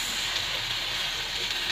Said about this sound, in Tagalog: Isunod natin ang kamatis